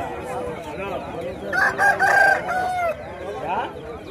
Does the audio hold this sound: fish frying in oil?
no